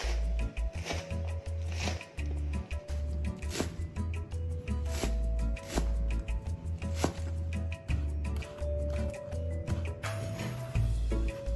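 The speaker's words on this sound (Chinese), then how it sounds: "100克韭菜清洗干净，沥干水分后切细。" A knife finely chops washed, drained Chinese chives, about 100 grams, on a cutting board. The strokes are steady, rapid and close, continuing without a break.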